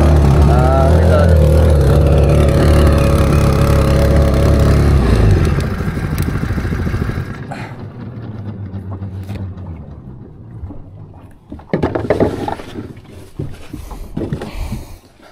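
A new 4.5 HP outboard motor on a small fishing boat at sea drones loudly and steadily close up for several seconds. Then it drops off, leaving rattling, clattering and splashing on the boat.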